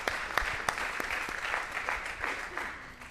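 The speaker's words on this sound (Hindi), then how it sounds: "सभी जोरदार तालियां बजाएं सभी कवि महोदय के लिए।" An audience at a Hindi poetry gathering applauds the poets with steady, moderately distant clapping that continues evenly without pause, a little faint, with no voices standing out over it.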